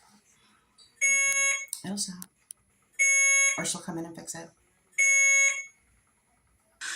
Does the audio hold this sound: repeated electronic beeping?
yes